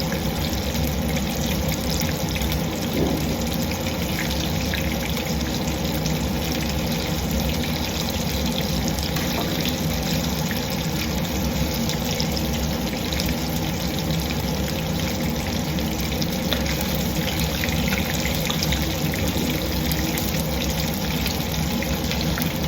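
Kane fish tawa fry cooking in oil in a pan, giving a steady, continuous sizzling hiss that holds at an even level throughout, with no voices.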